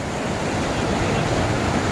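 Rushing river water by a small waterfall at a trout fishing spot, a steady dense wash of broadband noise, loud and close, with no pauses or voices.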